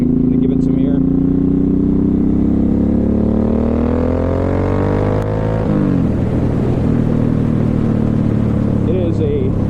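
A 2007 Suzuki M109R motorcycle engine revs and climbs in pitch as it accelerates, loud and close, then shifts and settles into a rougher steady drone, with faint brief sounds at the start and end.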